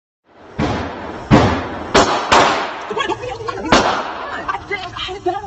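A gun fired at a shooting range gives several sharp, loud reports spaced about a second apart, each with a short echoing tail, among scattered voices and clatter.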